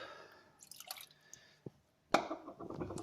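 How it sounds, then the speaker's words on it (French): Small rinsed pebbles lowered into aquarium water for a Malawi cichlid fry tank, giving faint dripping, a soft plop, then a louder splash and gurgling of water, all close and quiet. "je vais plonger les galets à l'intérieur, les faire descendre doucement"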